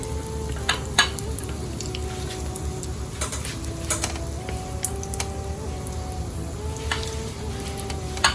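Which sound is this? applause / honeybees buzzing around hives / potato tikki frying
potato tikki frying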